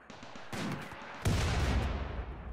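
Gunfire in the video game Rimworld: a sharp crack near the start, then a louder, dense burst of shots that carries on to the end, all moderately loud with no talking.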